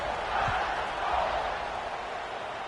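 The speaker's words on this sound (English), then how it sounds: "this crowd is buzzing after that last score" Football stadium crowd buzzing after a score, a distant, diffuse roar of many voices that swells and settles in waves, heard alone and fairly faint.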